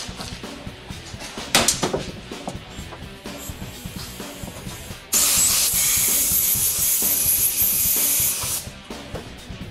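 Air hisses through a clogged windshield washer nozzle on an SG5 Honda CR-V. A low background hiss gives way to a louder, steady rush of air for about three seconds before it cuts off.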